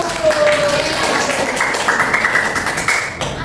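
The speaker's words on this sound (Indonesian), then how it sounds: "Beri tepuk tangan dulu." Classroom applause for a student group, a moderate burst of clapping mixed with murmuring children's voices in a room.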